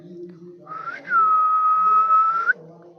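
A person whistles in a village in Arvalli, Gujarat, India, to call a dog: one loud, sustained, steady-pitched whistle lasting about a second and a half, with a brief rising lead-in and faint voices before and after.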